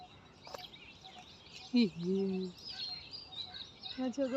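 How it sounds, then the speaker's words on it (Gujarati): Peacocks call in Punit Van park, Ahmedabad, with one loud, close, wavering cry standing out over soft chirps and a quiet murmur of background voices. "બહુ બધા મોર છે નહીં?"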